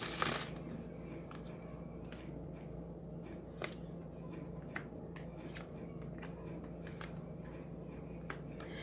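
Tarot cards being shuffled by hand, a soft continuous riffling with a few sharper snaps of cards, close up over a low steady room hum, with no talking.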